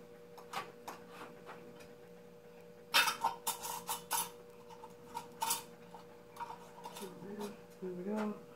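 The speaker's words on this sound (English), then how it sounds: "So we're going to take our lids and pop them on." Metal lids placed onto glass canning jars filled with apples at a home canning session, giving a few light clinks and taps spread over several seconds beneath a steady hum, with brief background voices.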